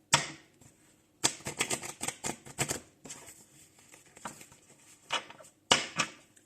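Oracle cards being shuffled by hand, with bursts of rapid papery riffling and flicking separated by quieter pauses, close and fairly soft, with no talking.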